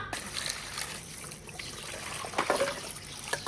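Children wash their hands under running water at a sink, with a continuous trickling flow and light splashes close by and faint voices in the background.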